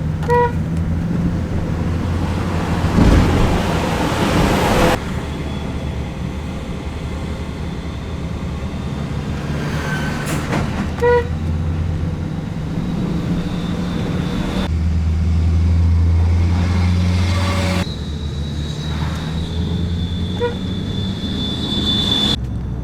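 A car drives on a Sulawesi road stuck behind four huge trucks, with a steady engine drone and road rumble throughout, shifting pitch as gears change, plus occasional faint tones.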